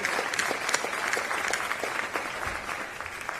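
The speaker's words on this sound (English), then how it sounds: "Let's give them a round of applause." Audience applause fills a civic State of the City address, steady dense clapping throughout at a consistent level with no voices over it.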